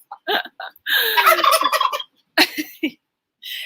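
Loud, bubbly gobbling calls from poultry come in several bursts separated by brief silences, close and clear with no talking.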